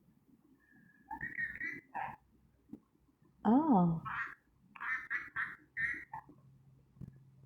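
A pet parrot lets out a series of short squawks and chirps, some harsh and some whistled, close and fairly loud, with a person talking softly between calls.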